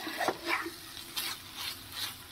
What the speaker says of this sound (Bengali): এবার আমি হাই ফ্লেমে পনিরটা একটুখানি মশলার সাথে ভালো করে একটু কষিয়ে নেব 2 থেকে 3 মিনিট